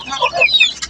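A disabled free-range village chicken clucks close by in a quick run of bright, loud clucks lasting about a second.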